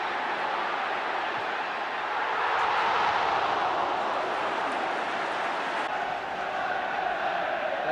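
A dense, roaring crowd fills a football stadium at a 1977 League Cup final, a broad sustained wash of cheering that swells slightly midway and stays constant throughout.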